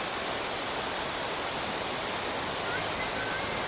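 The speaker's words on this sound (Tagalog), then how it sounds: "marinig mo yung tubig, ang agos ng tubig" Rushing water at Hinulugang Taktak Falls in Antipolo roars as a dense, steady broadband wash, close and unbroken, with no clear voices over it.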